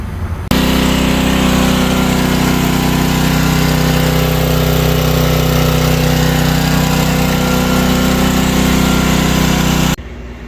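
A Craftsman 5600 generator engine runs steadily at a constant idle-like drone, loud and close, starting abruptly after a brief moment and cutting off near the end, with no talking.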